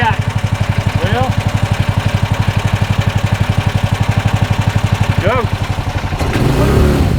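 420cc gas golf cart engine chugging at a loud, steady, rapid idle that swells briefly into a rev near the end, with people talking over it.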